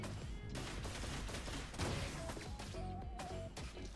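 Grangger's guns firing in Mobile Legends, a loud barrage of rapid shots mixed with crashing impacts and game effects, sustained almost throughout with a brief rise near the middle.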